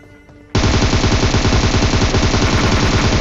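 Sustained automatic gunfire in PUBG at Georgopol, starting abruptly and continuing as a loud, dense, rapid stream of shots without pause.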